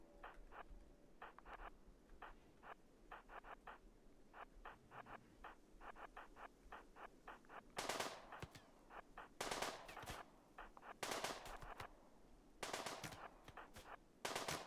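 Rapid bursts of automatic gunfire and single shots from a RimWorld battle, clustered in sharp volleys with short gaps, loud against a quiet background with no talk.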